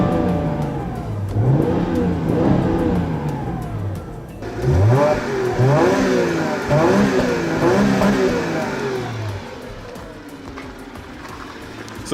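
A 2015 Subaru Legacy with the 3.6L engine and fluted exhausts revs up, a mid-pitched engine note rising and falling through several surges of throttle, loud and close with no talk over it.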